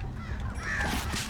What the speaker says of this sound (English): birds I gotta watch out for